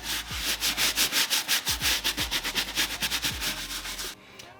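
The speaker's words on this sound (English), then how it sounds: "Now you just scrubbing the solution to do everything that you needed to do." A brush scrubs cleaning solution over a glittery Jordan 1 sneaker in fast, even back-and-forth strokes, loud and close, about two dozen rhythmic swipes before stopping abruptly.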